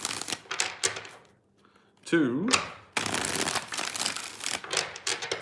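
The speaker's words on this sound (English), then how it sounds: "Three more shuffles." Brisk tarot card shuffling rattles in quick bursts close up, while a person speaks briefly in between.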